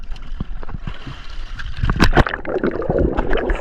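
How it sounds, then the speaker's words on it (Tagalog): Strong wind buffeting a microphone at sea beside a small fishing boat near a reef, a rough steady rumble with water sloshing and gurgling against the hull, louder gusts and splashes toward the end. "Medyo malakas na yung hangin."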